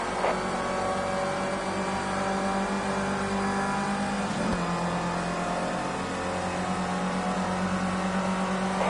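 Racing car engine from Project Cars 2 holds a steady high-pitched drone throughout, with a brief gear-shift dip midway before settling again, loud and continuous with no talking.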